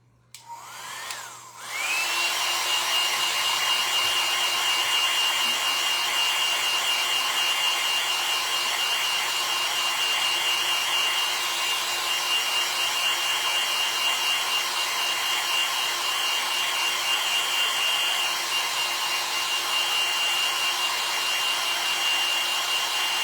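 A hair dryer starts with a brief whoosh and then runs continuously at close range, a steady airy whir with a high whine. It is used to dry the eyes of a Frankenstein craft built from a thrifted cookbook holder.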